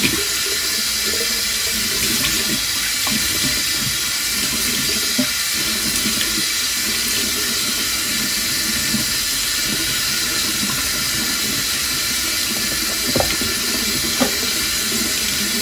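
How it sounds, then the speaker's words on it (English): A bathroom tap runs steadily while a face is washed, giving a loud continuous water rush with small splashes and hand movements close up, and no talking. "I wash my face."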